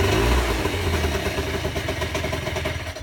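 Peugeot Speedfight 50cc moped with an upjetted carburettor, its small two-stroke engine running loud and close with a steady buzzing idle and clattering mechanical noise, no talk over it.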